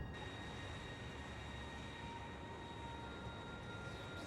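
A train rolls steadily through the video game Factorio, a constant, even rumble with faint high tonal whines holding unchanged throughout, no voices present.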